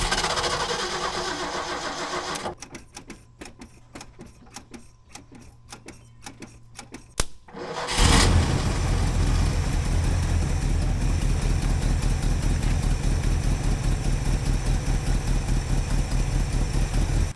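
An old truck engine cranks in a steady rapid rhythm for about five seconds, falls briefly quiet, then catches and roars into loud, continuous rough running that stays close and dominant to the end.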